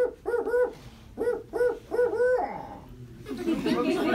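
A person imitates a barred owl's call, voicing rhythmic paired hoots in short phrases, close and clear, ending in a drawn-out falling hoot followed by light laughter or murmuring.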